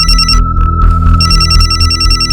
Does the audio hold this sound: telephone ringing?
yes